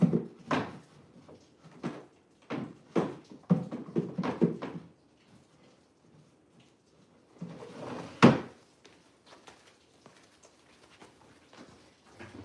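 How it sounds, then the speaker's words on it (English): Wooden drawers slide and knock as one is fitted into a rolling cart, a series of sharp thuds and scrapes in two bursts with quiet gaps between, close up with no talking. "One more drawer, and then we're gonna see if it, let's see if it wheels."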